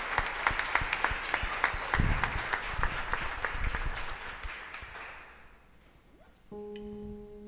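A church congregation claps during a Spanish-language evangelical service. Crisp, rhythmic hand claps fill the room, then gradually fade out, and a sustained instrumental tone enters near the end.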